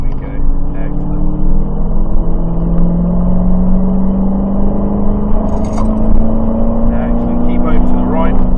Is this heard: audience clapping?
no